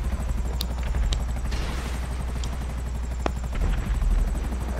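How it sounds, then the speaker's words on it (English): Helicopter rotors in a GTA Online chase pound steadily and loudly throughout, a dense thumping drone from several choppers with occasional sharp clicks and game effects, no talking. "Three choppers after. Three choppers now."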